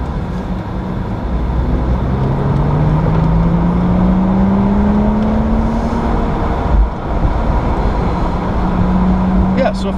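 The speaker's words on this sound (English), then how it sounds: "wind noise, wind feel." Wind rushing through the open cabin of a 2014 BMW 435i convertible with the windows down on a race track, a steady broadband roar over the engine's rising drone throughout.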